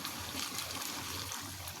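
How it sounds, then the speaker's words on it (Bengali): Hot water is poured into a pot of beef curry with taro for gravy, a continuous close trickling and splashing stream lasting about two seconds. "ঝোলের জন্য পানি দিয়ে দিচ্ছি"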